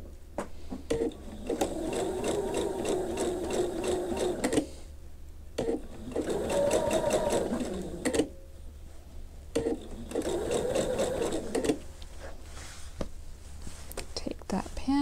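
A sewing machine stitches curved quilt fabric pieces in three steady bursts separated by short pauses, heard up close with soft talk underneath.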